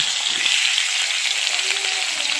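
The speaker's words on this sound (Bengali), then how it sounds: "এবারে রুই মাছের মাথাটা আমি ভেজে নিচ্ছি" A rohu fish head fries in hot oil in a wok, giving a close, dense, steady sizzle that crackles evenly throughout without pause.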